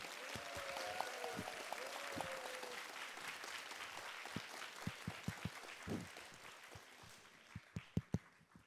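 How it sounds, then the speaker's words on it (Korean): Audience in a library lecture hall applauding to welcome a guest speaker, a steady patter of many hands heard moderately far off, thinning toward the end with a few louder individual claps. "여러분 뜨거운 박수 부탁드립니다"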